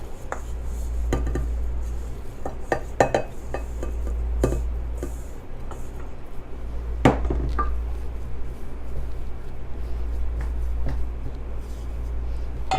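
An oatmeal crust mixture for caramel bars pressed into a baking pan, with close irregular taps, scrapes and clinks of utensil on pan over a steady low hum, no voices.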